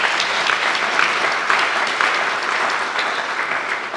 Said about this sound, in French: Si vous pouvez applaudir notre chambre de commerce.